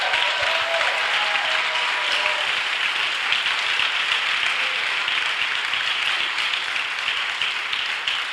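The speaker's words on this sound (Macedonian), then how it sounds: "Ве молам да ги охрабрите со еден громогласен аплауз." Loud, sustained applause from an evening audience at a queer storytelling night during Skopje Pride Weekend 2017, dense steady clapping filling the room for several seconds without talk.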